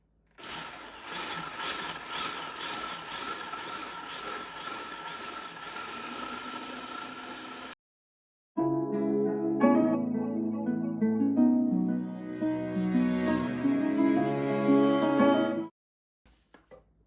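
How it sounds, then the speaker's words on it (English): An old, noisy machine churns grated soap chips and baking soda for homemade powdered laundry soap, a steady loud whirring hiss that cuts out briefly, then resumes with music playing over it. "And while I process this, my machine is very noisy"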